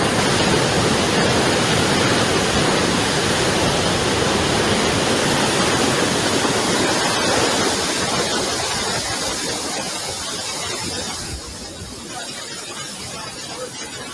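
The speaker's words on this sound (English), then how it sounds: "then he films a water main break" Water gushes steadily from a broken water main on a street, a loud, continuous rushing roar that eases slightly toward the end.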